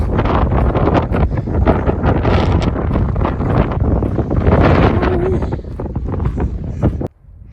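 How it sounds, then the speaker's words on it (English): Steady wind buffets the microphone for about seven seconds on the Pacific Crest Trail in the Sierra Nevada, a loud continuous roar with gusty rustling, then cuts off abruptly near the end. "it's a little windy."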